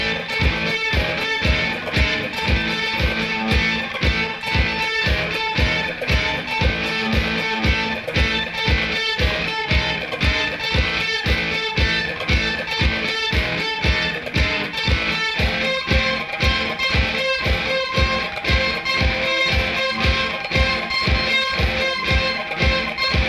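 Electric guitar plays the outro of a song with a shift to F as a key change, driving evenly repeated strums in a fast steady rhythm, loud and close, with no talking.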